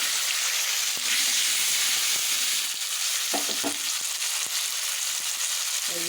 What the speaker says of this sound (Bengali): এই দেখেন আলুগুলো একটু ভাজা হয়েছে।